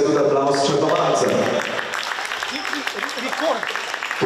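Audience applause at a youth basketball tournament in Vransko, a dense wash of clapping that rises after a voice over a loudspeaker fades out in the first second and a half, then carries on steadily to the end.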